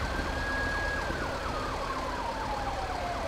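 An ambulance siren from Grand Theft Auto V, played with the LSPDFR police mod, wails continuously in a rising and falling pattern over steady traffic rumble, with no one talking.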